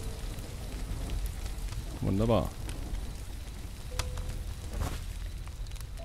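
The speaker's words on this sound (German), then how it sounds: "Wenn es so schön regnet wie jetzt." Rain in the video game Territory falls as a soft, steady hiss, with someone briefly speaking over it and a few faint clicks.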